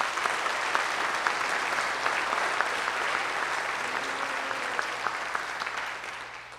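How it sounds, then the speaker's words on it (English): Steady applause from a concert band audience honoring a scholarship committee, dense and even for about six seconds before tapering slightly at the end. "so if you guys could all give them a round of applause"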